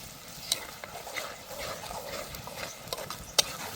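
Onion gravy simmers in a pan for a sauce with peanut bhajiyas, giving a steady soft sizzle and bubbling with a few light clinks of a stirring spoon against the pan.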